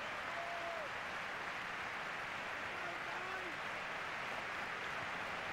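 Football crowd at the Bernabéu during a Real Madrid versus Zaragoza match gives steady, distant applause, a broad even wash heard under a commentator's voice.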